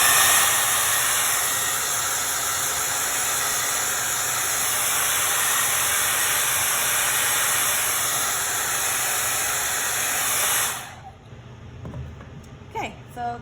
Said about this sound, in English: I'm gonna use my handy dandy blow dryer quick and I'll show you.